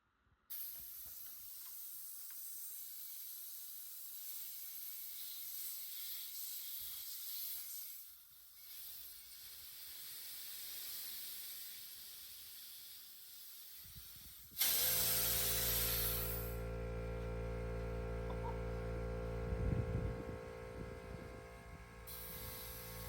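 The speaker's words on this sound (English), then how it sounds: "We got our temporary air supply ready to go and hooked up for the compressor to build some air" Air compressor filling a temporary air supply for the air ride suspension on a chassis-swapped Mercedes rod, a steady hiss with a rougher louder motor drone kicking in partway through and running continuously to the end.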